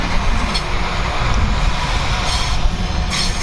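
Train passing at Kenilworth Junction on the up line, a loud steady wheel-and-rail roar close by with faint squeal and clatter, no voices.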